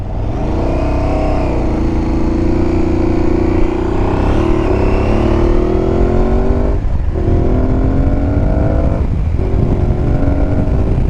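An Aprilia Tuareg 660 motorcycle engine under way, loud and continuous with rising and falling throttle pitch and two brief dips where the rider lets off between revs; no talking.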